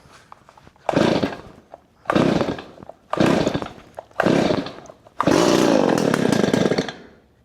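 Stihl 024 Wood Boss chainsaw on full choke, pulled repeatedly: four short bursts of engine sputtering and firing, each dying out, then a fifth longer roaring run, loud and close with no talking.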